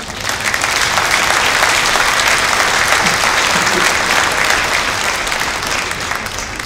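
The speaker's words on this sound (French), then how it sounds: "que nous pouvons applaudir également" Dense, steady applause fills the room at a mayor's New Year greetings ceremony, the audience clapping for religious representatives, loud and continuous throughout with no voices on top.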